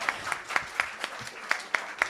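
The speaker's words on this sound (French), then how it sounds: "applaudissez-la encore un petit coup" Sparse applause at a conference, a handful of distinct, evenly spaced hand claps from a small group, fairly faint and close.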